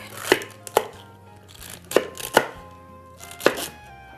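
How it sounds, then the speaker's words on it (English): A knife roughly chops green vegetable parts on a board, giving five or six sharp, irregular thuds spaced about half a second to a second apart, close and clear with no talking. "I will just chop roughly like that and have this ready for sauteing"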